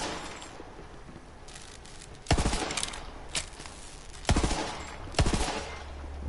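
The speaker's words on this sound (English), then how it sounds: "Wait, burst fire?" Burst-fire weapon shots in Borderlands 3, playing as Moze: four loud, sharp bursts spaced about a second or two apart over a quiet background hum, with no talking.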